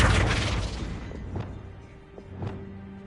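The Flipendo spell effect in Hogwarts Legacy bursts with a heavy boom that fades over a second or so, followed by a few soft whooshing and thudding accents.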